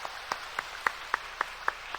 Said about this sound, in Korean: 우리 박수로 환영할 수 있었으면 좋겠습니다